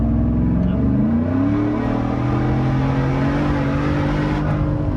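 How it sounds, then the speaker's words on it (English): Roush Lightning pickup truck engine revving hard while smoking its tires, a loud continuous roar with pitch sweeping upward then holding steady, near and dominant. "it's just smoking the tires"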